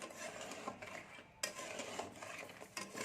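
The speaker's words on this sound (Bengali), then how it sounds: "এবার আস্তে আস্তে আমি এটাকে নেড়ে নিচ্ছি" Lentil pitha with coconut filling turned gently in sugar syrup in a pan off the heat, producing close, continuous scraping and rubbing strokes with a few sharper knocks against the pan.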